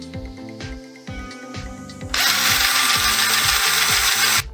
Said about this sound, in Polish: Przymocuj kilka opasek zaciskowych do ołówka, włóż go do wiertarki, a będziesz mieć improwizowany mikser do małych objętości roztworów.